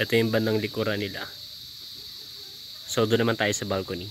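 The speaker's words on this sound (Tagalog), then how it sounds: "mas malakas dito yung tunog ng mga kuliglig" Crickets chirp around a balcony at a fishpond, a steady high-pitched trill running continuously beneath a man's speech and filling the quiet pause between his words.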